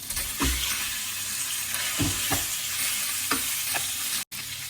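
Steady sizzling of pork belly frying in a hot pan for Thai green curry, with a few scraping stirs of a utensil breaking through the crackle.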